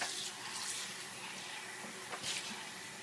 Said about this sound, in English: Okay, I'm gonna rinse that.